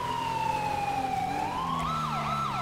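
A police car siren wails in a video game as a cruiser drives through a forest, a smooth up-and-down electronic sweep that turns into faster warbling pulses over a low engine hum.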